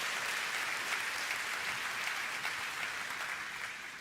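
A church congregation applauding during a sermon, a dense, sustained wash of many hands clapping together that holds steady and fades slightly at the end.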